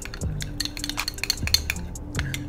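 A spoon stirs an oil marinade of paprika, black pepper and salt for tandoori duck, giving a run of light clinks and scrapes over a steady faint background.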